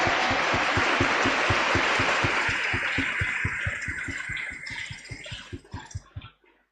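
A church congregation claps together in steady, rhythmic unison to celebrate, the loud, even beat carried over a dense wash of crowd noise and reverberation. Toward the end the clapping thins out and stops.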